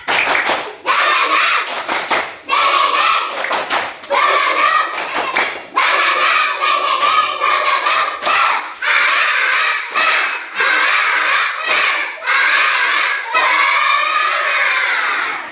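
Schoolchildren in a classroom do a rhythmic spirit clap together in a fast pattern and shout along loudly, the claps coming in quick bursts with brief pauses.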